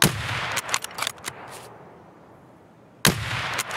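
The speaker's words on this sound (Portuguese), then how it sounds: "Dei dois tiros nele" Several sharp gunshots crack in quick bursts in the video game Escape from Tarkov, followed by a quiet lull and then another shot, fairly loud and close.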